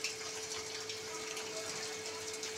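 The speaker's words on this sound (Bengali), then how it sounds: "এবার বন্ধুরা আমি এবার জল দিয়ে দেবো" Water pours steadily into a pan of cooking prawn curry, a close continuous gushing splash lasting a couple of seconds with no talk.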